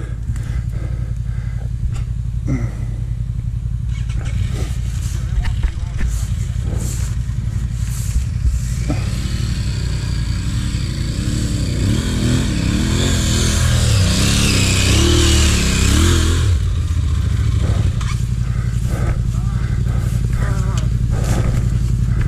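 A powerful motorcycle engine droning and revving close by for over twenty seconds, with a rising, wavering surge in the middle before it settles back to a steady rumble, and a little clatter throughout.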